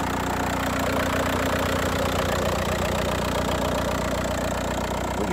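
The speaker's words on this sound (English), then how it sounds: "Diesel TDI." 2005 Volkswagen Jetta TDI diesel engine idling, a loud, steady clattering rumble with a rapid even knock, heard close up under the hood.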